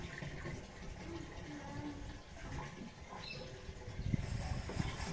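Water runs steadily into a metal pot with a dense, splashy rush that grows slightly louder toward the end, with faint background sounds.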